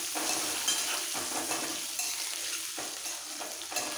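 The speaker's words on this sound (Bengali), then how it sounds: "এর মধ্যে অল্প করে নুন আর হলুদ দিয়ে এটাও ভেজে তুলে নিতে হবে।" Halved boiled eggs fry in a pan with salt and turmeric, giving a steady sizzle broken by scraping stirs and light clinks of utensil against metal.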